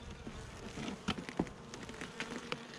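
Honey bees buzzing steadily close by during a hive inspection, a dense continuous hum with a few brief louder knocks or bumps from handling the frames.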